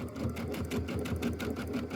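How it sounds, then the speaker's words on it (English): A domestic sewing machine, run by foot control, stitches in a quick rhythmic whir, close and steady over about two seconds. "You can tap that foot control to have it go just one more stitch."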